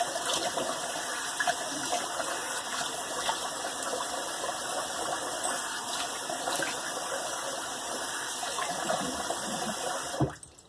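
Running water gushes steadily from a tap for several seconds to rinse a shaving brush, a constant hiss and splash that stops abruptly near the end.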